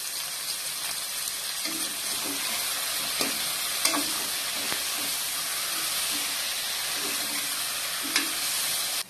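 Chopped tomatoes with salt being sautéed for sambar sizzle steadily in a hot pan, with scattered light stirring clinks and scrapes over a continuous frying hiss, close and moderately loud, without talk.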